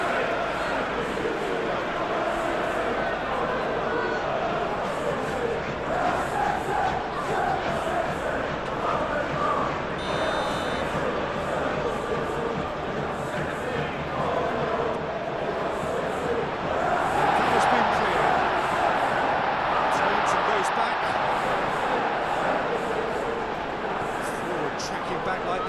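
Football stadium crowd at a Galatasaray versus Manchester City Champions League match keeps up a steady roar, rising into louder cheering midway, with commentators talking over it.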